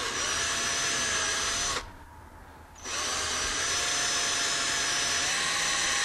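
Power drill boring pilot holes into a wall layer for a clog installation, a loud sustained high whine running close up, cutting out for about a second, then spinning back up and holding steady.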